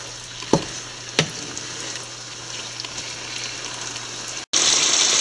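Chicken and breadfruit curry with garam masala and ground fennel is stirred in a pan, a steady sizzle with two sharp utensil scrapes early on, then a sudden louder burst of frying near the end.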